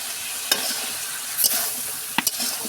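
Egg and banana curry is stir-fried in a pan, giving a continuous close sizzle punctuated by three brief spatula scrapes, with no talking.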